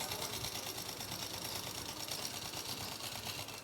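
Sewing machine stitching a seam on a suit, a steady dense mechanical whirr that runs continuously and loudly throughout with no talking.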